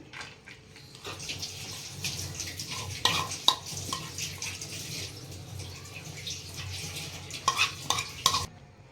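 Raw mango and onion salad being stirred with spices in a bowl, a continuous wet, squelching mix with occasional sharper clinks of spoon on the vessel, close and moderately loud throughout.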